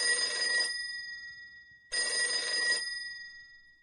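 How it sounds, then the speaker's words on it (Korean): Telephone bell ringing in an office, two bright metallic bursts of about a second each with a short pause between, clear and fairly close. "부회장실로 전화가 걸려온다."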